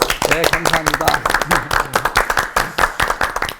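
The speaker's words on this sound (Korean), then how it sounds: "다시 한번 격려해 박수" An audience claps in encouragement at a Christian leadership broadcast, a crisp, rhythmic burst of many hands lasting a few seconds, with a brief spoken thanks over the start.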